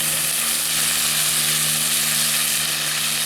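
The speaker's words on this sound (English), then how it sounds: "Let's get that venison up here on that drier part of the skillet" Venison searing on a skillet over a rocket stove outdoors, a loud continuous sizzle and crackle with a steady hum underneath, no voices.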